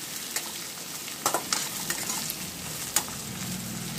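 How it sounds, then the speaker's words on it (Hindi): Onions and masala frying in a pan for a chicken masala, a constant near sizzle broken by several sharp clicks and scrapes from stirring. "अब ये हमारा प्याज जब तक लाल होएगा और इसमें ये मसाला भी फ्राई हो जाएगा।"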